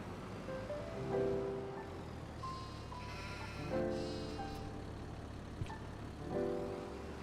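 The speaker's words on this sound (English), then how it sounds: "There's probably hungry sheep, right?" Sheep in Farming Simulator 25 bleat several times, clear and fairly close. The calls come in repeated bursts over a soft, wave-like ambient wash, with no talking.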